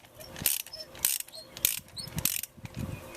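A hand ratchet clicks in quick bursts while loosening a spark plug counterclockwise on a Toyota Tundra engine, several close, sharp ratcheting runs with short pauses between them.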